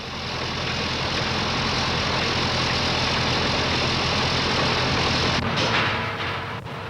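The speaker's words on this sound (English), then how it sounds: "every engine is given a 10-minute run on the rotary test machine" A car engine runs steadily on a rotary test machine in a 1961 motor car factory, giving a continuous loud mechanical drone with a low hum throughout and a few faint clanks near the end.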